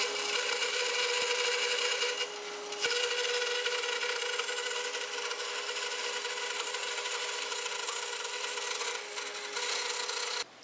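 A bandsaw cuts through a wooden board, resawing it into a half-inch board and a thin quarter-inch offcut, with a loud, steady rasping whine that barely changes. It drops off briefly near the middle and again at the end.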